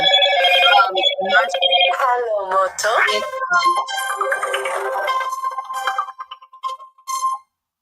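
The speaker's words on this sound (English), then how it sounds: "mute your phone" A phone ringtone chimes loudly in repeated melodic bursts over several seconds during a boxing talk stream, with voices talking over it.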